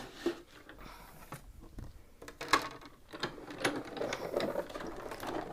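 A die-cutting machine cutting a card shadow, a soft mechanical clicking and ratcheting as the plate is cranked through, quiet and irregular with faint handling noises.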